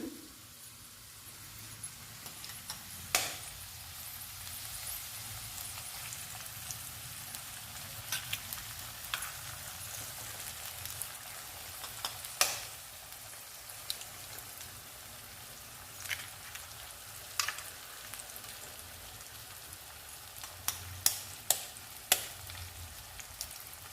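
Eggs frying in a pan while egg rice is made: a steady, soft sizzle runs throughout, with occasional sharper crackles and pops rising above it, and no voices.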